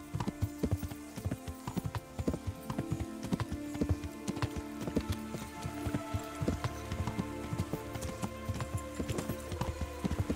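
Horse hooves clop steadily while riding in Kingdom Come: Deliverance, a brisk, close rhythmic patter of many hoofbeats with no talk over it.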